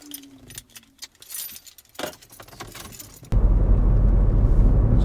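Keys jangle and clink close by in a few quick bursts during the first seconds, followed by a car door and a loud, steady engine rumble as a vehicle starts.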